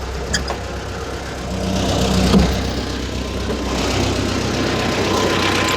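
A tractor engine runs steadily with a low, rumbling drone, swelling slightly in loudness midway; no voices.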